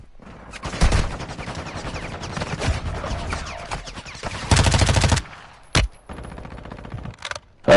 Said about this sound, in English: I need to reload my guns. Oh, you shot me! I was shooting her!